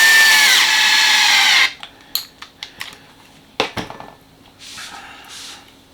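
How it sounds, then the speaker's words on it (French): A power screwdriver drives screws into an X-Maxx RC truck gear housing, giving one loud, close whirring run that stops abruptly, followed by scattered metallic clicks, taps and brief handling noises. "On va serrer les deux vis du haut pour bien écarter les portées de roulement."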